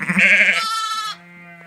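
A young lamb beside its ewe bleats once, loud and close, a wavering cry that breaks into a thinner tail before fading into a faint low tone.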